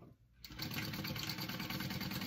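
A sewing machine top stitching a handbag panel starts up after a brief pause and runs at an even, rapid stitching hum with a fine mechanical chatter, close and steady to the end.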